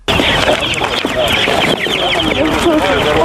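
Evacuated chicks cheep and cluck continuously over a busy, noisy background with voices talking nearby.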